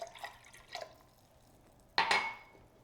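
Vinegar is poured into a brine of water for pickling onions and beets. A few faint drips are followed by a short, bright splash of liquid into a container, heard close and alone.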